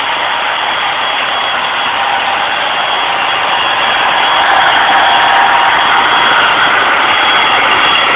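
An engine-driven alternator spins at high speed, producing a loud, steady, unbroken whir that holds constant throughout.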